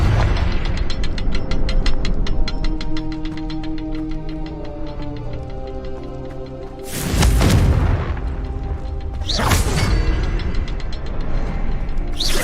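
Confringo fire spell blasts in Hogwarts Legacy, two loud bursting explosions several seconds apart over a steady rattling, grinding mechanical drone with a tonal hum.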